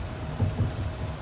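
Rain falls on a Bronx Zoo monorail car, a soft steady patter with low rumbling thuds, brief and close, with no talking.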